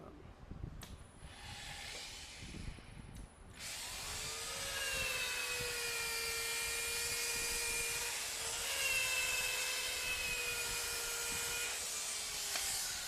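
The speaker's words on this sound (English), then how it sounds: "I am just going to sand that a little bit." A power sander works a wooden snowman, starting after a few seconds of quiet background hum. It then runs as a steady, close, loud whine whose pitch dips and rises slightly as the tool presses against the wood.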